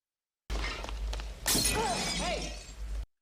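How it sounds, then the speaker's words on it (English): A parked car's window shatters in a Blade Runner scene as an elbow smashes through it, a loud crash followed by bright scattering glass and tinkling debris under a low rumble, ending abruptly. "she slipped and smashed her elbow through a parked car's window"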